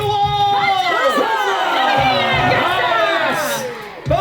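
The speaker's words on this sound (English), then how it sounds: "House of York, give me a cheer if you would follow your fearsome king." Audience at a live War of the Roses jousting show at Warwick Castle, loudly cheering, whooping and shouting for the House of York, a dense, sustained roar of many voices that dips briefly at the end.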